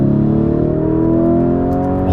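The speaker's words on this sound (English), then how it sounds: "we got some fat exhaust, and they sound incredible, and I'm gonna let you listen to that once again" A 2019 Lamborghini Urus revs its fat exhaust, a loud, close, rising engine tone climbing steadily in pitch for about two seconds.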